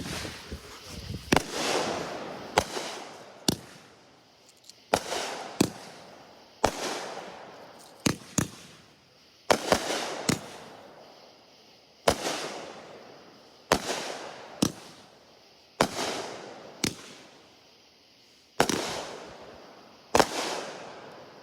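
Fireworks burst one after another, sharp loud bangs each followed by a crackling, fading tail, roughly every one to two seconds outdoors, with no talk.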